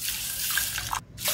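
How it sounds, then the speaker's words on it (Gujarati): Water pours from a tap into a pot holding sugar for syrup, a steady close splashing stream that cuts out briefly near the end and then resumes. "સામે એટલા જ ડબલ માપનું, એટલે કે 2 વાટકી હું અહીં પાણી એડ કરીશ"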